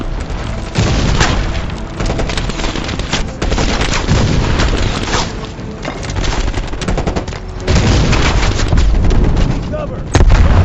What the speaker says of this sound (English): Heads up, RPG.